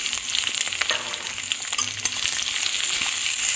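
Chopped onions with garlic and chilli frying in a pan for a Bengali thor ghonto, a steady dense sizzle with scattered crackles and stirring clicks, close and continuous with no talking.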